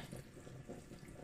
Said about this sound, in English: adding a little bit more water.